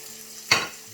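Onion and garlic hit a hot pan with a sudden loud sizzle halfway through, a short burst of frying hiss that settles into a steady crackle, with no talking.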